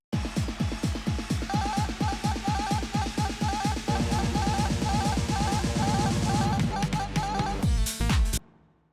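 Looped electronic beat with a rapidly chopped, stuttering sample cut in and out with a DJ fader in tight rhythm, loud and continuous, then stopping abruptly near the end.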